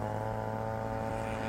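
Model Stinson Reliant airplane's small motor running steadily with propeller drone, a continuous close buzz that holds level through the short moment without clear rise.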